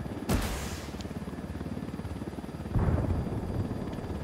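Gunfire in a video game battle at a hilltop position, heard as two sharp loud bursts over a continuous rumbling helicopter-like drone that runs throughout.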